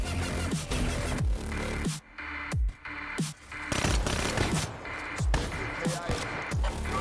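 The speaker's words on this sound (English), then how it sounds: "Why is he shooting at my dead body?" Repeated bursts of automatic fire in Call of Duty: Black Ops 3 multiplayer, punchy shots with abrupt gaps between volleys, close and loud, with little talk.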